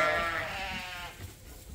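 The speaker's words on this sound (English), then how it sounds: "We can see that little lambs have already found their mothers because they're" Sheep and lambs settle into a new pen; one wavering bleat rings out near the start, then fades into quiet farm ambience.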